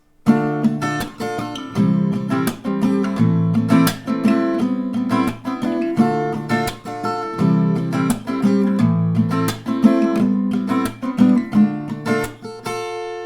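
Acoustic guitar strummed in a steady rhythm, with individual picked notes ringing out between the strums, clear and close with no talking.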